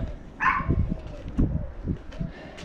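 A small dog yips and barks in short bursts indoors, a few sharp barks spread across a couple of seconds at moderate distance, against a quiet room background.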